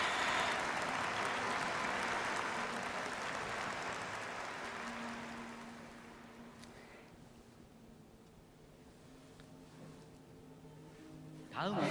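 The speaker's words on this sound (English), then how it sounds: "let us please send a warm round of applause to all our pastor families, pastor couples for all their hard work" Congregation at a church anniversary ceremony applauding pastor families, a broad wash of clapping that starts full and fades away over several seconds into quiet room hum, with a brief rise again at the end.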